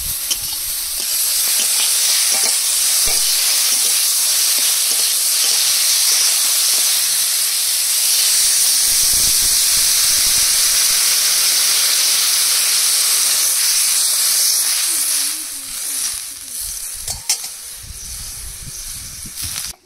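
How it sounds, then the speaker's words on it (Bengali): Water poured over fried eggplant in a hot pan bursts into loud, continuous hissing steam and sizzling that holds strong, then tapers off near the end with a few clinks. "বেগুনগুলো ভেজে নিয়েছি, এবার জল দিয়ে দেবো।"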